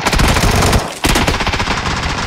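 Rapid automatic gunfire in the PUBG battle royale game: loud, close bursts of machine-gun shots with a brief gap near the middle, and no talking.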